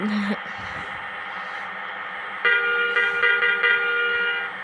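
A KSRTC bus horn sounds in Bus Simulator Indonesia, with a loud sustained honk and a few short repeated blasts over a steady engine drone in the second half.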